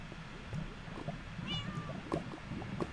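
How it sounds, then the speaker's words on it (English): Cats meowing in a Minecraft-style video game, a few faint short meows rising out of a busy, murmuring background. "Why are there so many cats?"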